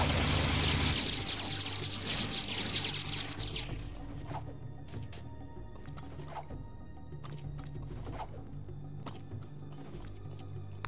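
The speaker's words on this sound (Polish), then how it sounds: "ładnie tutaj woda płynie" Flowing water in the video game Jak 3, a broad steady rush loudest at the start and then continuing more softly as a constant wash, with occasional small splashy accents and no talking.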